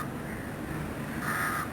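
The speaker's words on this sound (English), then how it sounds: "Within the city, you can find several of the common birds of Sri Lanka, like this house crow." House crow calling at a temple by the lake in downtown Colombo, Sri Lanka: two harsh caws, the second louder and clearer, over a steady ambient hiss.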